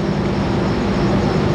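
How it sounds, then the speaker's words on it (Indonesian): The Singasari executive train arrives at Cirebon station in a loud, continuous low rumble of rolling rail noise that holds steady throughout. "kereta api Singasari sudah tiba di stasiun Cirebon"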